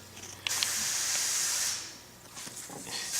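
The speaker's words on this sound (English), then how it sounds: "we're going to take a little bit of brake cleaner and shoot it down inside there" Brake cleaner sprayed from an aerosol can into a diesel injector cup, one sustained close hissing burst of about a second, followed by a fainter short spurt.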